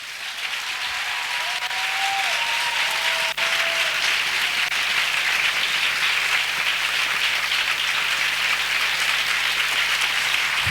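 A church congregation claps together at a prayer festival, with steady, dense applause filling the hall for about ten seconds. The clapping is loud and continuous, and a few faint tones sit in the background.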